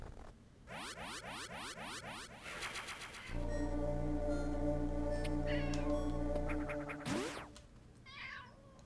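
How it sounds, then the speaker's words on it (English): A house cat meows briefly near the end, after a run of Metroid Zero Mission game effects with repeating sweeps and a long droning tone. "That was my cat, Willy."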